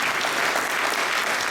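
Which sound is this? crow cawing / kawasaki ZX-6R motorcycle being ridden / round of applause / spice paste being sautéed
round of applause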